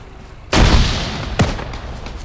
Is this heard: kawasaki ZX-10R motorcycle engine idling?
no